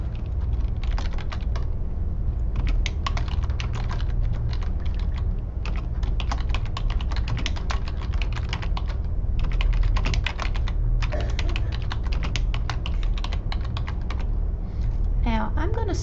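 Rapid typing on a computer keyboard while entering a title in a document, with dense bursts of clattering keystrokes and brief pauses over sixteen seconds, close and clear.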